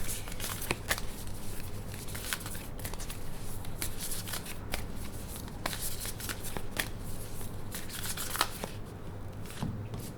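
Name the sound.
shuffling oracle cards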